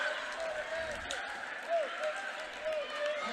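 A gym crowd at a girls high school basketball game in Goffstown cheers steadily after an and-one play, a broad sustained roar with whistles and shouts rising and falling throughout.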